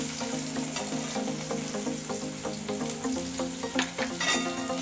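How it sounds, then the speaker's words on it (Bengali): Chopped onions fry in a pan of oil with two cardamom pods for an egg curry, giving a steady, even sizzle with faint stirring scrapes and a tonal musical hum underneath throughout. "3 থেকে 4 মিনিট পেঁয়াজগুলি ভালো করে ভেজে নেব।"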